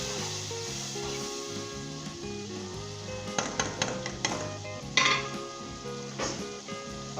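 Masala being stirred and mixed in a cooking pot for beef keema korma, with a steady sizzle and intermittent scraping clatters of the spoon, all under continuous background music.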